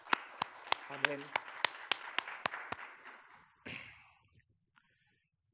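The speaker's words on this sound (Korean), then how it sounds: "우리 주님께 영광 박수 올려드립니다." About ten sharp claps in a steady rhythm at a Sunday church service, followed by a short spoken word and then quiet.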